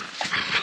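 A dog gives a brief, soft whimper close by after a game of frisbee, a single short whine lasting well under a second.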